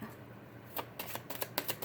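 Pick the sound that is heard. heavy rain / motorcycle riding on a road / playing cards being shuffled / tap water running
playing cards being shuffled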